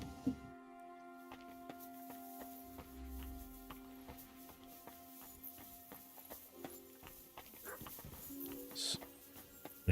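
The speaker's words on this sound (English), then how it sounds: "I hear a dog. Could be mine." A dog whimpers softly in the medieval video game Kingdom Come Deliverance 2, a few faint whines rising over steady tonal game ambience and scattered small clicks and knocks.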